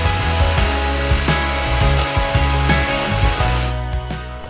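Power saw cutting through wood just outside a marked line while shaping a wooden herb stripper, a loud continuous buzzing cut with rhythmic pulses as the blade works through the piece.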